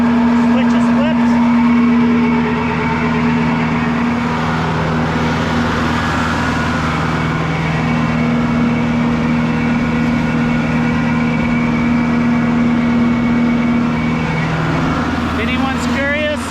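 A tractor powers a PTO-driven generator at about 520 PTO RPM, producing a loud, steady, close droning engine hum with a constant tone throughout, while people talk over it.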